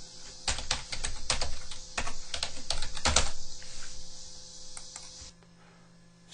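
Rapid clatter of keys on a computer keyboard as a login ID and password are typed, a dense burst of close keystrokes that thins out to a few isolated taps near the end.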